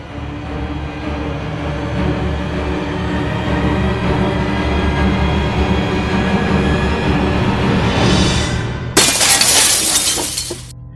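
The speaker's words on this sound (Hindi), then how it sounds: "विंडो की ग्लास टूट गई।" A window pane shatters after a statue is thrown into it, a sudden loud bright crash of breaking glass that follows a long rumbling build-up and rings out briefly.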